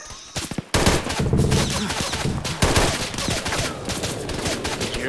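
Rapid gunfire in the military shooter game ArmA 3 rattles in loud, dense bursts, with short pauses between volleys.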